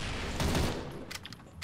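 Gunfire in the video game CrossFire, a short burst of rapid shots that fades into scattered softer game effects, moderately loud with no talking.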